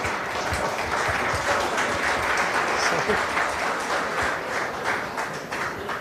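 An audience claps at an insurance conclave, a dense, moderately loud patter of many hands sustained throughout with some voices mixed in.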